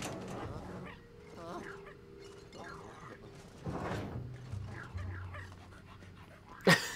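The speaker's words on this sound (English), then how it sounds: "Just my little puppy." A puppy in the video game Luigi's Mansion 3 pants in quick, soft breathy bursts with small whimpering tones, alongside gentle in-game chimes and effects, ending in a brief sharp click.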